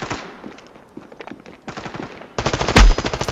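Rapid video-game gunfire from a multiplayer shooter played in Wingman mode, machine-gun bursts crackling in quick repeated volleys that grow louder and denser toward the end, with a sharp heavy blast near the close.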